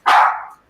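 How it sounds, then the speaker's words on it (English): One of two rescued dogs living with their owners in a converted van lets out a single loud, close bark that rings for about half a second before cutting off. "Oh, one of them's barking."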